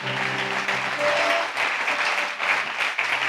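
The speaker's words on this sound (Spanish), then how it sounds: "Aplauda al Rey de Gloria, por favor." Congregation applauding during an evangelical revival service in a church, a dense, sustained wash of clapping filling the room for several seconds, with faint musical tones underneath.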